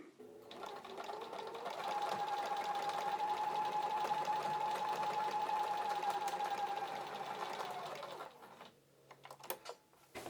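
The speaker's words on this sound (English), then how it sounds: "we're just going to run through and show you how this stitches out with the regular presser foot" A sewing machine fitted with a regular presser foot stitches through vegan leather, its fast, steady motor whir running for several seconds before stopping, followed by a few light clicks and handling noises.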